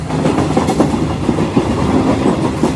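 Continuous heavy rumble of a moving train, wheels clacking over rail joints in a steady rhythm, loud and close with no voices.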